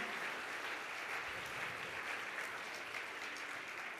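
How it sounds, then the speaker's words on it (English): Audience applause at a hospital radio awards ceremony, a dense, continuous clapping from a seated crowd heard at moderate distance, steady throughout. "The Mayor of Blackpool, let's have a round of applause. Sylvia Taylor."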